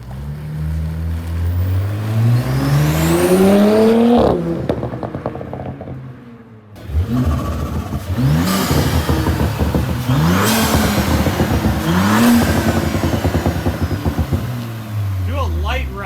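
A B9 Audi S5 fitted with a 034 Motorsport P34 cold air intake revs hard in a series of rising, loud, close roars. A brief drop to near silence is followed by repeated sharp blips, with people talking excitedly.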